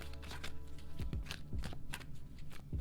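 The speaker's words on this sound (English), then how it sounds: "I'm going to pull two more cards from the Fairy" Cards from a fairy oracle deck are shuffled and drawn by hand, a close, continuous papery riffling and slapping over a low background hum, with no talking.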